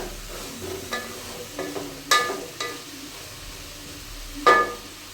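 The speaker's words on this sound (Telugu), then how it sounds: "ఇలా వేపుకోవాలి. వేసుకోవాలి. పచ్చివాసన పోయేంత వరకు వేసుకుందాం." Vegetables with capsicum for vegetable rice are stirred in a pan: a quiet frying background broken by several distinct spatula scrapes and clacks spaced a second or so apart, with no talking.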